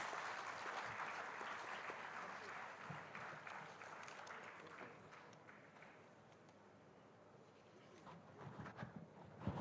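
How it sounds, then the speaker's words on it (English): Audience applause at an Osmania University 109th foundation day celebration, a sustained wash of many hands clapping heard from a distance and fairly faint, easing off midway before picking up again at the end. "Can we have a huge round of applause for sir"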